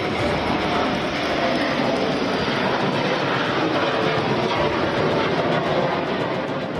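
Roar of Rafale fighter jets at the Aero India 2019 air show in Bengaluru, a steady, loud broadband jet rumble that holds without a break throughout.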